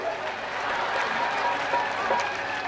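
A crowd at a public event in Naigaon, in Maharashtra, applauding with a steady, dense patter of clapping. A voice can be heard faintly underneath.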